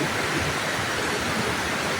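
Heavy rain falling outside makes a dense, steady hiss that fills the whole clip evenly, with no voices.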